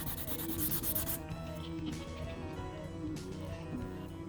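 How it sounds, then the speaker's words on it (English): Hand sanding of a 3D printed prop with 120 grit sandpaper, a steady close scratchy rubbing with repeated strokes, quiet and with no talking. "you first get some, I don't know, 120 grit sandpaper. There's a nail file, works just as well. Sand it all down."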